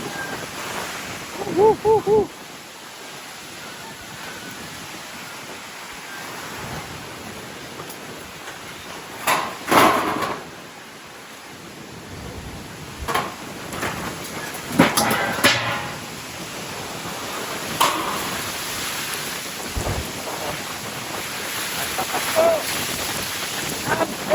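Heavy rain and gusting wind from Typhoon Uwan roar continuously, loud and close, with surges of buffeting noise and a few faint voices.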